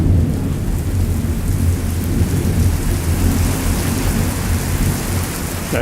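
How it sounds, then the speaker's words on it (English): Heavy rain pours down during a thunderstorm, a dense, steady roar of drops with deep rumbling thunder beneath, loud and continuous throughout, with no voices. "Boy, do we need this rain."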